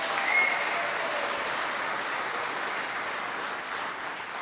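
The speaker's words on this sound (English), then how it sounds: "Let's give him a round of applause." Steady applause from a large crowd at a political rally in Michigan, a dense, continuous wash of clapping that holds at an even level throughout and eases slightly near the end.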